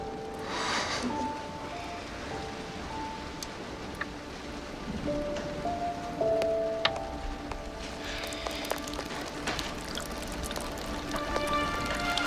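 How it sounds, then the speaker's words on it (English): Steady rain falls throughout, a dense hiss with scattered drips and patters, while faint tonal sounds drift in the background. "It's raining outside."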